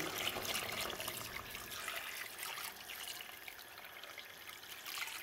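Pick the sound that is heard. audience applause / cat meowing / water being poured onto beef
water being poured onto beef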